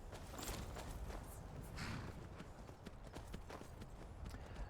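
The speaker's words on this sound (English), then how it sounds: "we'll get on our horse and we'll start going" Horse hooves clip-clop at a steady walking pace in the video game Skyrim, a continuous rhythmic patter of clear hoof strikes, fairly quiet and without talk.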